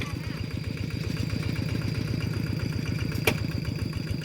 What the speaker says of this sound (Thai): เอารถไ ถใหญ่ลงปั่นรถไถใหญ่ลงปั่นแล้วบัดนี้